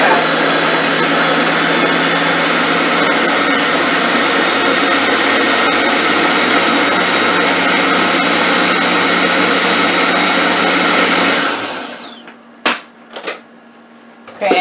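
An electric mixer whirs steadily and loudly while blending sofrito ingredients with grapeseed oil, a dense continuous drone that cuts off near the end, followed by a few brief clinks.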